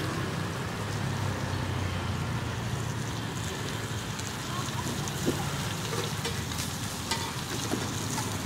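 Bánh xèo pancake batter fries over an open fire, producing a steady, dense crackling sizzle that continues without pause at an even, moderate loudness.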